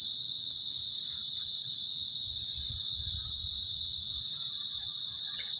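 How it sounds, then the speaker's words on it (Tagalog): Crickets chirp at night in a steady, unbroken high-pitched trill with no break, with faint low rumbling underneath. "Kuliglig sa gabi."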